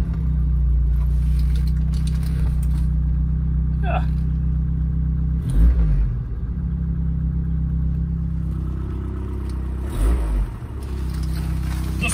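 A 1980 Ford Transit MK2 van's old engine idles steadily with a low, rough rumble, running continuously, with an exhaust leak on the rear side; a brief clatter and a short spoken word occur over it.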